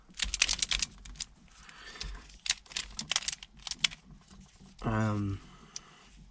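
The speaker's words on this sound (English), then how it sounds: "It has little clicky things in it, little ball bearings that allow it to click into place." A Kilaminx twisty puzzle is turned by hand, its internal ball bearings giving quick bursts of light, close clicks and snaps in irregular clusters, with a brief tonal squeak near the end.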